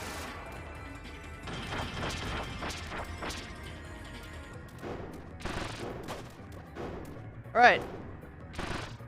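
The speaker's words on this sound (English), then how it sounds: "Oh, he's got a machine gun." Machine gun fire in Kirby Deluxe, heard as a string of clattering, crashing gun hits and impacts at moderate volume, with a sharper crash near the end and a voice briefly speaking.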